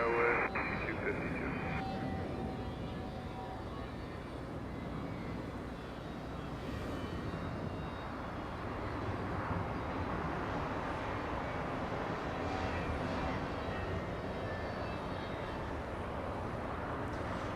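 Airplane noise at Los Angeles International Airport, a Singapore Airlines 777 taxiing north on a taxiway, heard as a steady broad rumble of jet engines at a distance, with a tonal hum early on and radio chatter and talk over it.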